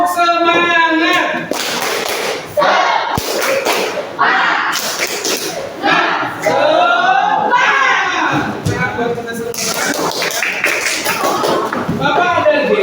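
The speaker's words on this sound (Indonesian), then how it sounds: "kita bertepuk semangat dulu ya" A group claps a rhythmic spirit-clap pattern, sharp hand claps in quick bursts with voices shouting and chanting loudly along throughout.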